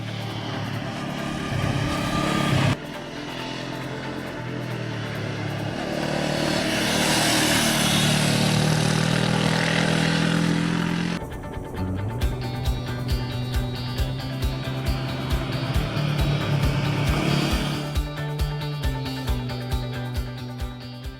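A Honda CB500F motorcycle engine runs loud and close, a sustained roar that rises and falls and then settles into a rapid, pulsing rhythm.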